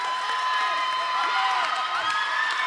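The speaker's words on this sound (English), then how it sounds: "Listen to this cheering section for Sparks." A roller derby crowd at a Philly Brawl Starts versus Pittsburgh Pitt Bulls bout cheers and whoops in a steady, dense roar, with shrill yells and whistle-like tones rising above the wash of noise throughout.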